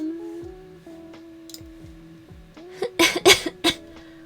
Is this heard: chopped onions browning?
no